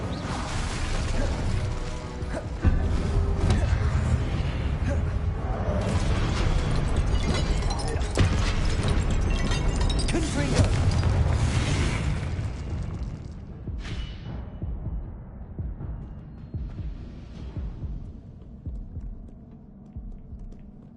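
In Hogwarts Legacy, Confringo and Incendio fire spells burst with deep booming thuds and rumbling throbs over layered game sound, loud at first, then thinning out into fainter scattered hits.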